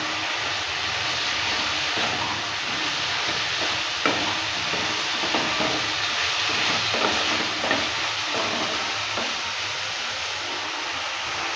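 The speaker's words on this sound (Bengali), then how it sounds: "সব কিছু দেওয়ার পর ভালো করে নেড়ে চেড়ে দিচ্ছি।" Chili, salt and turmeric powders being stirred in a hot frying pan for a prawn and taro curry, a dense continuous sizzle with soft scraping of the spoon, close and steady for the whole stretch.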